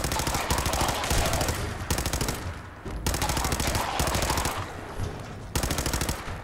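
A gun fitted with a drum magazine fires in long automatic bursts in Fallout 4, loud and close, the rapid shots separated by a few brief pauses.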